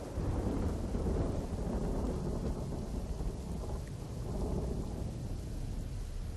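Heavy late-night rain pours steadily in Junagadh while low thunder rumbles beneath it, a dense, continuous wash of loud rainfall with no voices.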